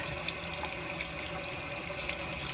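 Running tap water splashes steadily and continuously as a cleaned trout is rinsed under it, close and moderately loud with no talk.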